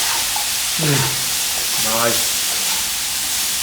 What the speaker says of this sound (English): Pop it in and just give a good stir fry with the ingredients.